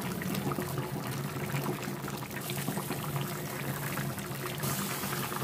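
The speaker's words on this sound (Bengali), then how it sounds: "আমি চারটা মাছ দিয়ে দিলাম, আমি এখন দিয়ে একটু নাড়া দিয়ে দিব" Rui fish pieces go into a simmering lau curry and get stirred in the pot, giving a steady wet bubbling and sloshing that carries on without a break.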